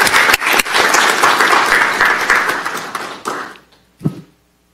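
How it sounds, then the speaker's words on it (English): An audience at a county board of commissioners meeting breaks into steady, loud applause that tapers off after about three seconds, followed by a few scattered claps and a soft thump. "let's give him another round of applause."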